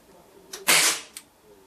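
A tuned Weihrauch HW97KT air rifle fires a single shot, a sharp close crack followed by a brief mechanical click, in an otherwise quiet setting.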